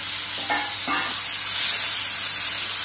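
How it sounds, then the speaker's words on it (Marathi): Dried pea curry ingredients, with tomato and potato, frying in a pan, a steady loud sizzle with a couple of brief scraping stirs near the start. "आता याला असं छान खरपूस भाजून घ्या."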